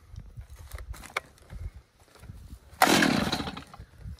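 A chainsaw is handled with a few soft knocks and scrapes, then its engine fires and catches with a loud, raspy roar that keeps running to the end.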